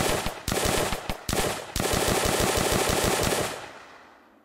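Full-auto weapon firing in an Unreal Engine zombie shooter game: rapid, evenly spaced shots in a few short bursts, then one long sustained stream that tails off into silence, loud and close with no talking.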